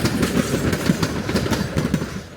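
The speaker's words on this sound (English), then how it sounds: "K37-493 on train 266, the Cascade Canyon Express, heading south past Oxbow Park" Durango and Silverton K37 steam locomotive 493 hauls the Cascade Canyon Express south past Oxbow Park, with a rumbling, rhythmic clatter of rolling wheels close by and steady throughout.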